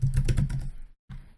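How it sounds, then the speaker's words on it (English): Rapid clatter of keys being typed on a computer keyboard, close and distinct, pausing briefly before a final short burst of keystrokes. "I'm just typing it in for me."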